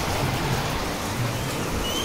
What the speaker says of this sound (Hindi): देखिए बारिश देख रहे हैं दोस्त